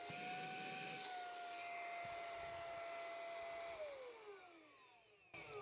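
A Brigii M1 portable mini vacuum runs on its blow side with a steady, loud whine. The pitch dips as it powers down near the end, then a short burst follows.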